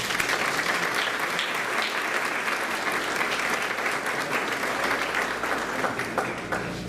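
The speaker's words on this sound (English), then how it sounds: "Let's give her a hand of applause." Audience applause at a college Founders Day ceremony, steady, full clapping from a large crowd lasting about seven seconds without a break.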